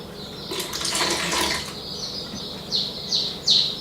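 Water for a hot process aloe vera soap is poured into a container on a kitchen scale, a trickling, splashing pour in the first seconds followed by a few short bright drips or squeaks, with no talking.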